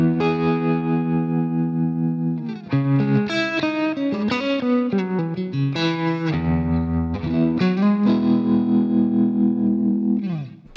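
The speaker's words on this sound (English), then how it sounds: "Patch number 4 is exactly the same patch but with a trem." Electric guitar played through an Axe FX 3 modeller with a tremolo effect on a crunchy, distorted patch; loud, continuous sustained chords and notes with pulsing, shifting harmonics for about ten seconds, no talking.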